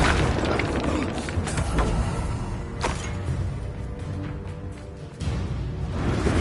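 A deep, booming spell explosion from Expulso in the video game Hogwarts Legacy rumbles heavily. Whooshing magical blasts and thuds stack up loudly with no pause.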